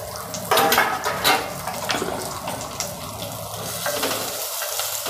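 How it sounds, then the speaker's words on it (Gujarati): Chopped onion goes into hot oil already crackling with mustard seeds, cumin and asafoetida for a Rajasthani bajri-flour kadhi, giving a steady close sizzle with soft stirring scrapes and no voices. "હવે આપણે આ કાંદો લીધો ને એ સુધારેલો નાખી દઈશું."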